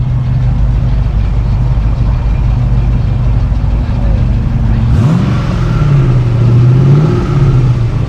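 A 1986 Ford LTD with a twin-turbo 5.3 engine idles loudly and roughly up close, then revs up and swells in pitch before settling, with no talking.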